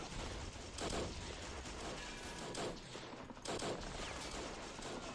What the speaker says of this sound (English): the machine gun fire is insane